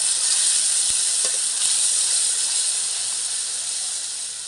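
Ground mustard paste with a little water fries in a pan with salt and turmeric, giving a loud, steady close sizzle and hiss, with a faint stirring scrape or two.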